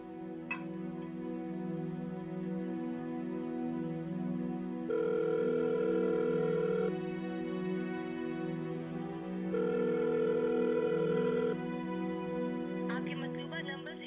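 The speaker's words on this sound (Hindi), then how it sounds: "रिजवान भी फोन नहीं उठा रहा मेरा" Ringback tone of an unanswered phone call, repeating long tones in slow, regular pulses over a steady hum.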